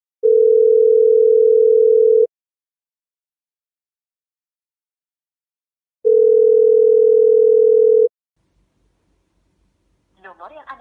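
A telephone call tone to a number that cannot be reached: two long, steady, loud beeps separated by a few seconds of silence, followed by the brief start of a voice at the very end.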